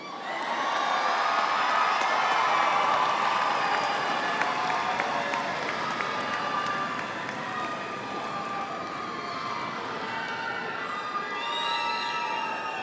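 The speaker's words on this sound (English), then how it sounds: "You will want to hoop and holler and clap and stomp your feet." A university fall commencement crowd in a large hall claps and cheers loudly, with whistles and shouts over dense applause that eases slightly and carries on steadily.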